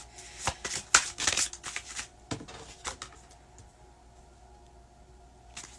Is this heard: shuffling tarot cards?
yes